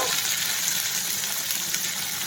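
Fresh tomato pieces hit hot oil in a pan, a loud, even hiss of frying that holds steady throughout, close up with no voices.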